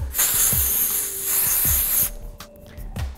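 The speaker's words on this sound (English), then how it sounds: "really spray in her hair" Several short bursts of hair texture spray hiss close by, the longest lasting about two seconds, with faint handling sounds between them.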